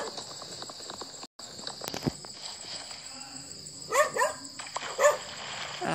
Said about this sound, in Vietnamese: Ơi, chó sủa hoài trời.